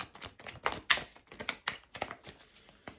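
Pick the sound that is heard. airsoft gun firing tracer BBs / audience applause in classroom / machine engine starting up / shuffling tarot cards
shuffling tarot cards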